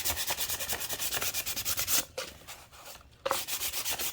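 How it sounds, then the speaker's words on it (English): Dremel rotary tool fitted with 120-grit paper sands a cured epoxy tumbler in quick rhythmic rasping strokes, loud and close, with two short pauses before the scratchy buzz resumes; no talking. "you wanna just take your Dremel. This is 120 grit."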